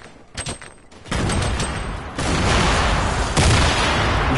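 A grenade explodes in a French online multiplayer shooter: a loud, sudden blast followed by a sustained, rumbling roar of battle noise that swells again near the end.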